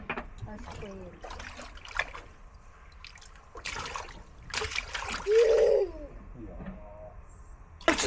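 Water splashes in a swimming pool on a hot day, a few bursts scattered across the stretch with one longer splash near the middle, while people talk nearby.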